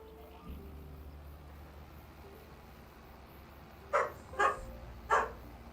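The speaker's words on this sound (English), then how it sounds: "I was waiting for the next time the dogs were going to bark" Dogs on a farm bark in three or four short, sharp bursts spaced about half a second apart, moderately close, following several seconds of quiet low background hum.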